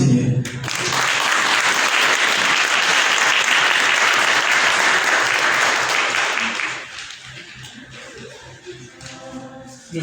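A church congregation breaks into loud, sustained applause that fills the space for several seconds, then thins out and fades into scattered claps.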